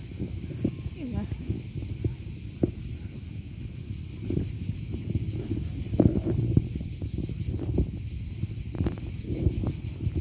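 Cicadas on Ugljan island, Croatia, near Preko, buzz in a steady high drone throughout, with soft footsteps and rustling close by under the constant insect chorus.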